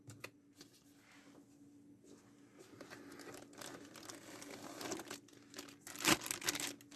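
A new CPU tower cooler is unwrapped from its packaging, giving close crinkling and rustling of plastic and cardboard that starts faint and grows busier, with a sharp tearing burst near the end.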